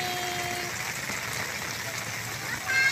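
Steady rain falls outdoors on a tropical island during a storm, a constant broadband hiss with faint tones and a little noise rising at the end.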